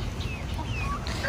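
Chickens clucking in a steady, noisy background, with a few short calls rising over the low rumble.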